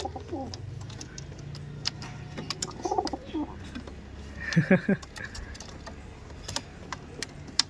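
Giribaj pigeons in a loft give low, soft coos, with one louder burst of cooing and fluttering near the middle over a steady murmuring background.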